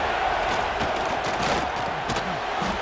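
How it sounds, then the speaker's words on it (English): Stadium crowd in the College Football 26 video game, Missouri at Oklahoma, roaring in a loud sustained wash of cheering and noise that fills the whole stretch without a break. "Listen to this crowd just shaking the girders of this place"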